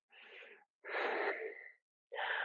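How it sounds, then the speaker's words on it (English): Loud, exaggerated breaths during a yoga exercise come in three close, airy pushes, the middle one longest, each sharply separated by silence. "Large, exaggerated breathing."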